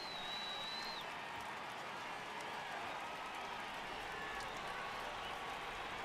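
A virtual stadium crowd at a Seattle Mariners at Toronto Blue Jays game in MLB The Show 18 roars in a steady, dense wash of cheering that rises for a full count, with a voice talking over it.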